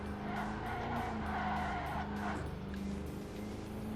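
Tire squeal from a car cornering at very high speed in the racing video game Ford Racing 3, a continuous skidding screech over a droning engine note, loud and close for the whole stretch.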